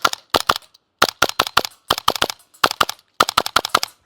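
A G&G SMC9 airsoft gun firing in rapid bursts at targets, sharp close cracks in quick groups of three to five with brief pauses between bursts.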